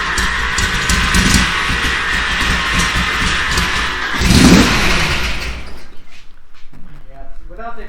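A 1965 Shelby GT350 engine turns over and catches, then revs loudly with a surge near the middle before settling to a rough, uneven idle, while people talk over it.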